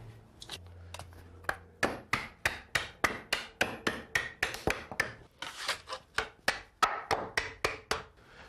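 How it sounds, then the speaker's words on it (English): A putty knife and shims are hammered in to pop a melamine form off a cast concrete countertop. About twenty sharp, close hammer blows land in a quick, fairly even rhythm, with no voices. "You're going to drive in this putty knife and then push shims in right next to it, and that will pop it free."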